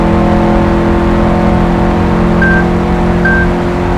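A Bugatti Veyron Super Sport in the Gran Turismo racing game holds a loud, steady high-speed engine drone with a constant whine and a couple of short beeps, and no talk over it.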